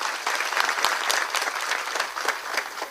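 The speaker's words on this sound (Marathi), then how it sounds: "आपण सर्व मिळून आज महाराजांसाठी एक जोरदार टाळ्या वाजवूया" Audience applause at a Marathi devotional kirtan in Vadali Deshmukh: a crowd claps steadily and densely for three seconds, a close, crackling wash of many hands with no pause.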